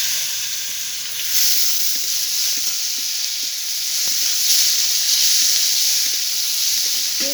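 Ground spice paste sizzles steadily in hot oil with fried onions, a loud continuous hiss with faint stirring scrapes, no voices.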